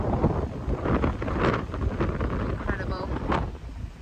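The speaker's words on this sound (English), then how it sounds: "wind raging all around us" Strong wind at Tintagel, Cornwall buffets the microphone in heavy, rumbling gusts, loud and constant, with faint voice-like sounds mixed into the roar.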